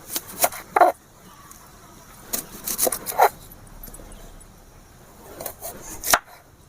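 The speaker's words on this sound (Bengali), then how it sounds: "এবারে পিঁয়াজটা কেটে নেব" A knife cuts an onion on a board for a home meat curry, giving sharp, close chopping knocks in small irregular clusters with quiet gaps between them and no voices.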